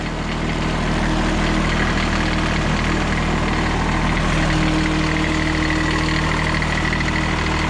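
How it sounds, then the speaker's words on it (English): A 3-cylinder diesel lawn tractor engine idles at close range, a steady low throbbing drone that runs unbroken throughout with no voices. "there really weren't all that many companies that offered a diesel lawn tractor like this"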